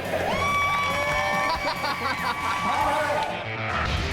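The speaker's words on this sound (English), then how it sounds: "And we can give a big round of applause for Eric Darnell." Studio audience applauding and cheering for Eric Darnell at a driver competition show, a steady wash of clapping with whoops and shouts running throughout, fairly loud and dense, with some voices mixed in.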